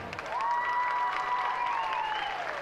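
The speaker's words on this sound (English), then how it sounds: "Big round of applause." Crowd at a schoolgirl rowing regatta applauding a rower on the podium: steady, fairly loud clapping from a spread-out audience, heard at a distance, with a faint rising and falling whistle or tone carried over it.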